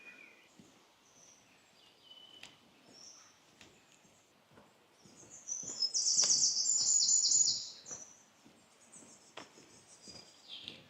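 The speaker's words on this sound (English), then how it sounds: "The only thing you can hear is the beautiful bird song and the wind in the trees." Birds chirp and tweet in a quiet outdoor setting near the viaduct at Knaresborough, with a brief burst of brighter, louder birdsong in the middle against faint background rustle of wind in the trees.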